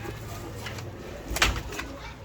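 A Missa-breed pigeon coos briefly at close range, a short soft burst rising over a steady low background hum.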